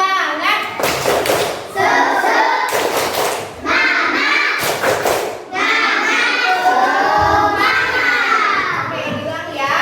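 Classroom of elementary school children doing a rhythmic spirit clap, several loud bursts of clapping and thumping in a chanted pattern, with young voices shouting along between the claps.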